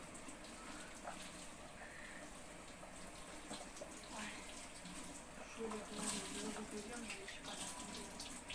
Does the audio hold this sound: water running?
yes